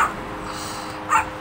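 A dog gives two short, sharp barks, one at the start and another about a second later, over a low background hum during a Rocket League gaming session.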